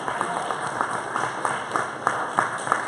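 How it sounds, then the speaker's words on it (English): Audience applause at a talk on product design thinking: a steady, moderately loud patter of clapping from a modest crowd that carries on throughout, with a few sharper individual claps standing out. "Applause."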